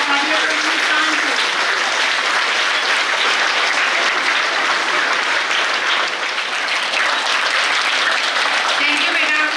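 An audience at an Independence Day celebration applauds steadily and loudly throughout, a dense, unbroken wash of many hands clapping with no pause.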